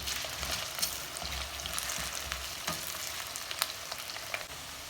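Potatoes and onions frying in a pan, a soft continuous sizzle with scattered crackles and pops, faint and steady, no talk.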